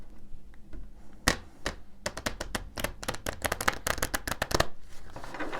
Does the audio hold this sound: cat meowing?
no